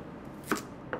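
A knife chops carrot on a board in a college cooking demonstration: two crisp, close chops about half a second apart over a quiet kitchen background.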